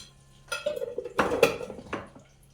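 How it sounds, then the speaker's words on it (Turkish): A spoon tapping against pots and dishes in a home kitchen, a few bright metallic clinks scattered across the moment, close and fairly clear with no talk over them. "sen bakıyorum hep videolarda kaşık vuruyorsun bu şeylere"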